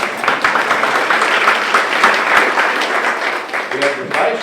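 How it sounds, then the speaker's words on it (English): Audience applause for the city council chair at a community meeting, a steady wash of clapping from a crowd in a hall, with voices mixed in under it throughout. "You can give him a round of applause if you want to."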